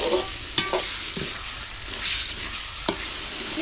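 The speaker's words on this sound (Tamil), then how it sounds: "சிக்கன் வந்து எண்ணெயிலேயே நல்லா வதங்கிருச்சு" Chicken with turmeric sautéing in oil, a loud continuous sizzle with occasional clanks and scrapes of a spoon stirring against the pot, close up and without any voices.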